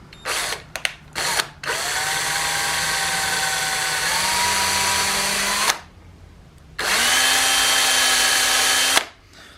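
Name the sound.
power drill drilling a small pilot hole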